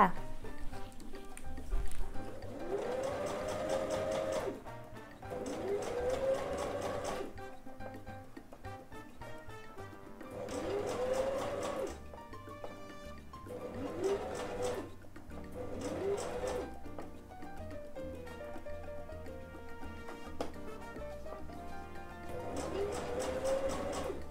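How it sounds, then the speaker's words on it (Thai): A sewing machine stitches a fabric face mask with an elastic nose strap, running in several short whirring bursts separated by pauses, moderately close, while someone talks through much of it. "เราไปทำการเย็บกันค่ะ"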